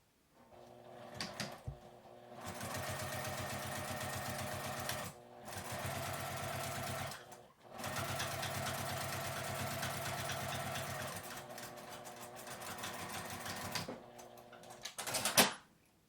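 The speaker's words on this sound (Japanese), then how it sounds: "表側の端を縫います" A sewing machine stitches along a zipper edge in several close, rapid bursts separated by brief pauses, with small handling clicks in between.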